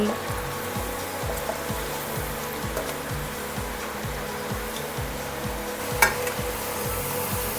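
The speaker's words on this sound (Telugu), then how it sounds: "ఇది హాఫ్ ఫ్రై అయిపోయాయండి, తీసేస్తున్నాను. మిగతా బ్యాచ్ కూడా అలాగే ఫ్రై చేసి తీసుకుందాము." Potato french fries bubble and fry in hot oil, a quiet steady sizzle with faint crackles and one brief clink of a utensil near the end.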